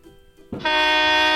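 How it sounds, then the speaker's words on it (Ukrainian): After a brief quiet moment, a cargo truck's horn blasts in close, a loud, sustained, multi-tone honk that holds steady to the end. No speech. "подає сигнал"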